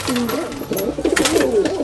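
Adult pigeons in a loft give warbling coos, close and fairly loud, with a voice briefly audible among them.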